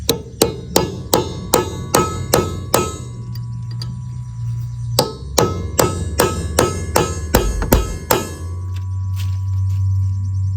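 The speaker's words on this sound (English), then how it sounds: "I'll drive it on with a punch and then lock it in place." A punch is hammered to drive a part onto a baler: sharp, ringing metal clangs struck in quick even runs, a short pause, then another fast series, close and loud.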